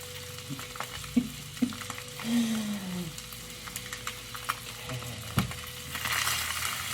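Food fries in oil and butter in a pan for a vegan breakfast, sizzling steadily while a utensil stirs and scrapes with occasional clinks and knocks, close and moderately loud, with no voices.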